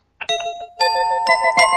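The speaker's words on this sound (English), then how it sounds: "And there goes the bell." A bell dings several times in quick succession, bright and clear with ringing overtones, loud and close, starting after a moment of silence.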